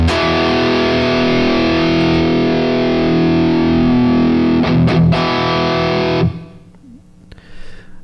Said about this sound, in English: So I'll play a chord here and let it ring out